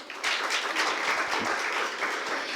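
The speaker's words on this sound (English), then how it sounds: "A huge round of applause for all of our sponsors" An audience applauds steadily at a life sciences conference, dense clapping at an even, fairly loud level throughout, with no voices over it.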